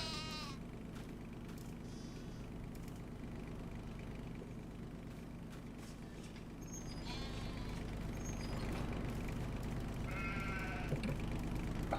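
Sheep bleating on a farm with a flock of around 200, several rising calls from animals at varying distances over a low steady engine drone. Someone speaks quietly in the background.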